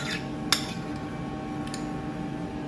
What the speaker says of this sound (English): Now again, give it a really good stir